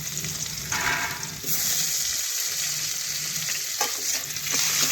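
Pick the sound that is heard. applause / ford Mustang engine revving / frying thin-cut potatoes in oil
frying thin-cut potatoes in oil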